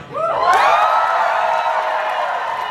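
A live audience at a premiere talkback erupts in loud whoops and cheering, a sustained close roar of many voices with high shouts rising at the start and holding steady to the end.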